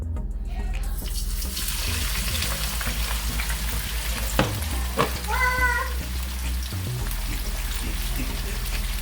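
Vegetables for ackee and saltfish sizzle steadily in hot oil over medium to high heat, a continuous frying hiss with a few clinks and stirring taps from the pan, no talking.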